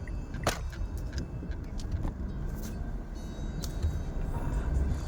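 Dense road traffic rumbles close by as cars and motor vehicles pass continuously, with a low steady roar, intermittent engine swells and occasional brief clanks.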